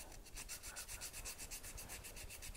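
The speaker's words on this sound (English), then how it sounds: "aggressively sand a layer off" Steady, aggressive back-and-forth sanding of a curved copper clay earring piece, a close, soft rasping rub with a quick even rhythm and no pauses.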